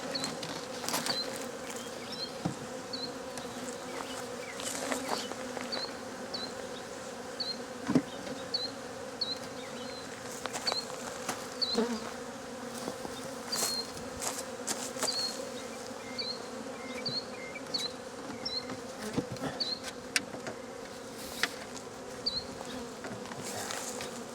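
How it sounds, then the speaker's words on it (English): Bees buzzing around a beehive, a steady layered hum with individual bees droning close past the ear at intervals, soft and continuous with no voices. "still bees going in here"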